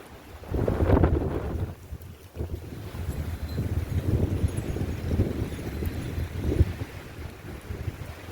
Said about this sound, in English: Wind gusts up to 80 kilometers per hour.